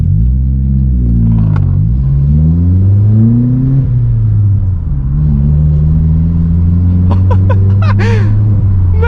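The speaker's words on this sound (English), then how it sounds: "Oh, it's popping, it's crazy, it's so nice." A Vauxhall Corsa engine climbs in steady acceleration, loud and close inside the car, then eases off and finishes in a rapid burst of exhaust pops and crackles near the end.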